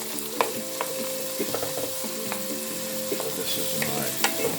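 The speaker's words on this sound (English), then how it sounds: "Alright, so now I'm going to stir up." Turmeric jasmine rice fries in a pot, with a dense sizzle and repeated clacks and scrapes of a spoon stirring through it, while a voice speaks briefly.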